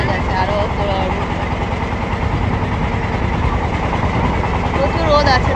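Trawler boat engine chugging steadily on a river trip in the Sundarbans, a loud, continuous close drone throughout.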